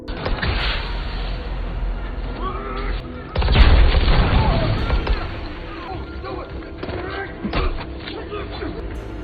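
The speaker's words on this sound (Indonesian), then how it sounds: "namun tiba-tiba karena ledakan itu, satu anak buah John harus tewas" A heavy, booming blast bursts in partway through a war film, with loud low rumble and crashing debris amid chaotic action noise and scattered sharp impacts.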